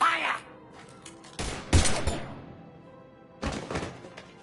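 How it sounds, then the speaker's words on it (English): Gunfire in the video game Mass Effect 3, a few heavy, thumping shots and impacts spaced a second or two apart, moderately loud against a quiet background. "Now open fire!"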